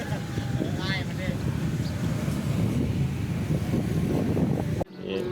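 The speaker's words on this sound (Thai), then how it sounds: "โอ้ลมแรงครับสงสัยฝนจะมานะ" Strong wind gusts buffet the microphone in a steady, loud roar ahead of incoming rain on a morning outdoors, with someone talking over it before the sound cuts off abruptly near the end.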